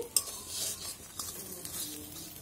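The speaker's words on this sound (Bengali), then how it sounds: "এবার এগুলোকে একটু ভাজতে দিই।" Soya and potato kababs frying in a pan: soft, steady sizzle with a sharp utensil clink near the start and occasional scraping and tapping.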